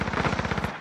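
Rapid automatic gunfire in Call of Duty Warzone, a tight burst of evenly spaced shots that is close and loud, lasting under a second with no voices.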